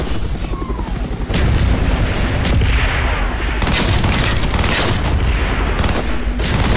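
Artillery strike in Call of Duty Black Ops, loud booming impacts and a dense fusillade of blasts that start abruptly and pound on continuously.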